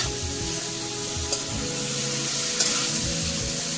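Duck meat sizzles steadily in a hot pan for Assamese duck curry, with occasional scrapes and clinks as it is stirred, close and continuous.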